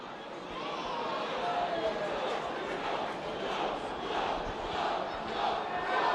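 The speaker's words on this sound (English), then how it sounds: "Now the York Speckers just cheering their charges on." York rugby league supporters at a 2005 Challenge Cup match against St Helens, a distant stadium crowd roaring and cheering steadily, with a commentator speaking over the noise.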